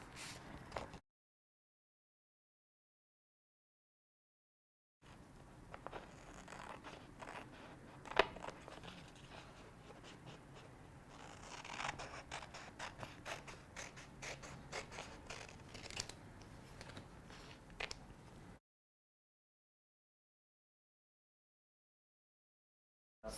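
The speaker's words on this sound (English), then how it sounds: "So I'm going to cut this map out and just see how big it needs to be and then cut it out." Scissors snip repeatedly through a paper map in quick, crisp, close cuts. A stretch of silence comes before and after the cutting.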